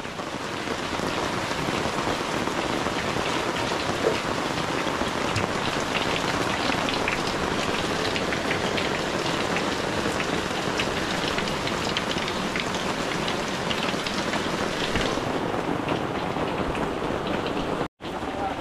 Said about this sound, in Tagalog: Yan pala hindi pugada, bumuhos lang ang ulan.